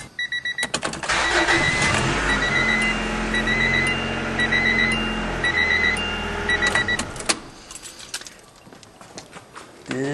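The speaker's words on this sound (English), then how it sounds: "Let's see if the car starts now." An Acura or Honda that would not start in hot weather cranks and fires up after a repair, with a few clicks followed by a loud, sustained engine run that fades near the end.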